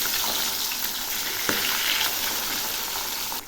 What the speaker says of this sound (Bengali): বাকি দুটোও ছেড়ে দিচ্ছি।